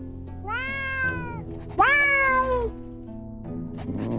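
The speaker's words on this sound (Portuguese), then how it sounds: "Ó o gatinho." A cat in the video game Drova gives two loud, drawn-out meows close up, each rising and then falling away, followed by quieter game ambience.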